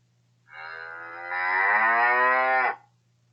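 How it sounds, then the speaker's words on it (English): A single drawn-out cow moo from an animated story's sound effect, clean and loud with a rising, sustained tone lasting about two seconds against silence. "And the cow went moo"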